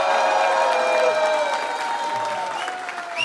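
Audience clapping in a hall at the end of a talk, a dense, steady burst of applause that tapers slightly, with a few faint voices underneath.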